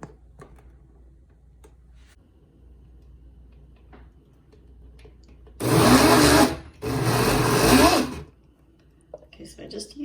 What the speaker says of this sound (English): I just used the water and the blender at a really low setting to make it extra goopy.